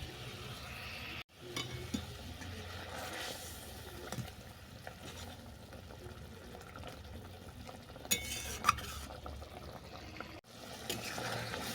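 Fish simmering in a thick sesame and poppy seed gravy in a pan, with a soft, low bubbling and occasional clinks and scrapes of stirring; quiet and fairly close, with two brief dropouts, no talking.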